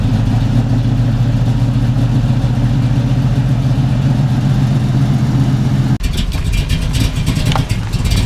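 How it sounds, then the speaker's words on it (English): Turbo Honda Civic engine idling up close, a steady low rumble that turns rougher and more clattery for the last couple of seconds. "now I just gotta idle the car, let it get to temp"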